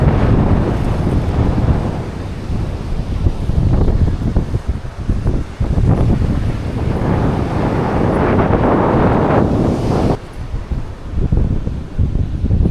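Strong, steady wind roars and buffets the microphone at the seashore, with a broad rushing noise and faint surf underneath, continuous with no voices.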